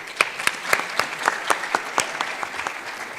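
Audience applause at a conference closing session: sparse, distinct claps spaced out in a loose rhythm, moderately loud and close, with no speech over them.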